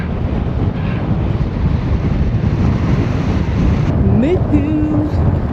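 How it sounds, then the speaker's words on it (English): Strong gusty wind buffets the microphone during a road bike ride in Spain, a loud continuous rumbling roar that persists throughout, with a brief faint tonal sound near the end. "the wind gods have come out to play. It is gusty, I tell ya."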